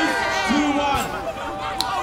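Stadium-style crowd roaring over a goal in the FIFA 20 Volta football video game, a dense continuous cheer across the whole stretch with no clear break, and someone talking over it.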